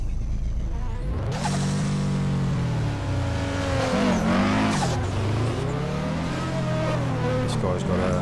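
A Mazda RX-7 drifts in rFactor, its engine revving up and down in sweeping pitch while tyres squeal and skid, loud and close, with a voice speaking over it.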